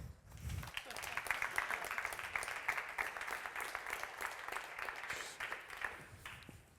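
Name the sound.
audience applause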